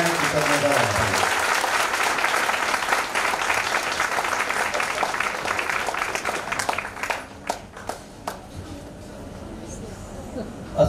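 Sustained applause from an audience at an Amrit Mahotsav celebration ceremony, loud dense clapping that thins out toward the end, with a voice beginning to speak over the dying claps.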